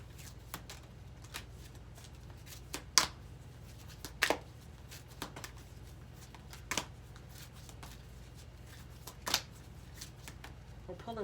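Tarot cards are shuffled close up in soft, continuous riffling, broken by sharp slaps and taps of the deck at irregular intervals, against a faint low hum.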